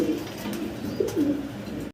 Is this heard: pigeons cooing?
yes